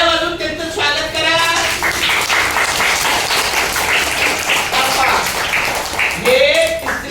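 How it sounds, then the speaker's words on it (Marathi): Children in a village school clap together for a newly arrived teacher at a Children's Day celebration, a dense, steady burst of applause lasting several seconds with voices mixed in. "सर्वांनी टाळ्या वाजवून त्यांचं स्वागत करा."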